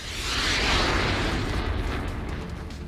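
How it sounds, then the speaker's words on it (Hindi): Artillery shells fired by Russia in Ukraine resound as a deep, rumbling boom that swells early and then rolls on in a sustained, distant-sounding roar, with no voices. "एक के बाद एक कैसे गोले दागे जा रहे हैं।"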